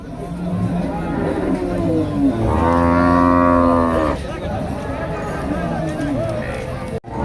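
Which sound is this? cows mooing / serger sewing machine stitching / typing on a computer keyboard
cows mooing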